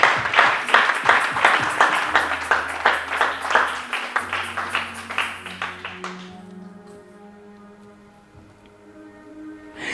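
A church congregation claps in quick, steady rhythm during worship, loud and close for the first six seconds, then fades out as sustained organ-like tones linger.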